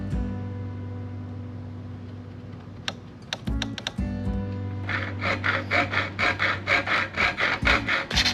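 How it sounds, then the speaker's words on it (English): A hacksaw cuts through a part of an RV retractable step, starting with a few scattered scrapes and then settling into a quick, regular back-and-forth rasping of about a dozen close strokes over a low steady hum. "so I'm gonna cut it up with a hacksaw"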